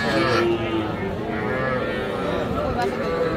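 Young bull calves at a cattle market low and moo in a continuous, loud, close call, with a steady hubbub of the busy market and people talking behind it.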